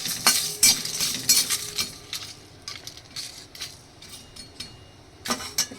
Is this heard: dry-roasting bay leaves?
yes